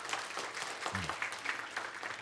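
An audience at a health seminar breaks into brief, moderate clapping, with a short vocal sound mixed into the middle.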